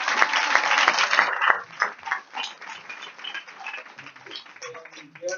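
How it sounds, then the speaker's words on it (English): A live audience gives a guest called on stage a brief round of clapping, strongest in the first second and a half, and then it fades into scattered claps and talk. "Give Kevin a round of applause."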